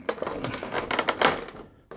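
Tape on an Aliens Power Loader toy package is sliced through with a blade, giving a close burst of rapid scratchy crackling and clicking that fades out near the end.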